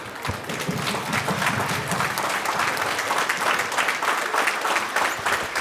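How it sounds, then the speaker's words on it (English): A school audience at a Veterans Day presentation claps in a dense, lively round of applause that stays close and loud from start to finish. "why don't we give a round of applause for"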